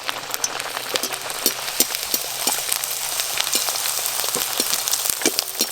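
Semolina luchi frying in hot oil, a steady dense sizzle with scattered crackles and pops running throughout, close and fairly loud, with no talk.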